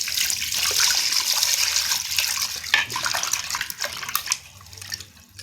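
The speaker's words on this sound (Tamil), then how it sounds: "தண்ணி ஊற்றி அலசிக்கலாம்." Water pouring and splashing steadily to rinse cleaned murrel fish in a kitchen, a continuous close hissing stream that tapers toward the end, with no talk.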